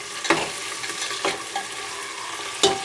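Onions browning in a pan for dal, a steady close sizzle broken by a few sharp stirring scrapes spaced across the stretch.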